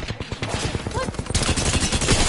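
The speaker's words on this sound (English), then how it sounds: "Opening fire." Dense gunfire from the Apex Legends video game, a rapid burst of shots that grows louder and more continuous partway through, with game voice lines mixed in.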